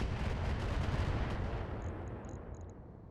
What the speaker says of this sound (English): Heaps of shots.